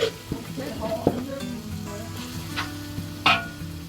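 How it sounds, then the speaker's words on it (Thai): Thai curry paste sizzles and fries in a large wok-style pan while a spatula scrapes and stirs it, with occasional sharp clinks close by. "ผัดพริกแกงใจเย็นๆนะครับ ผัดให้สุกฟูเลย"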